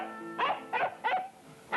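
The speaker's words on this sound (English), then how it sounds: "The puppy's barking frightened the soldier's horse." A puppy barks and yips four times in quick succession in a 1978 Toei animated film, with a high, bright tone and faint music or tones beneath.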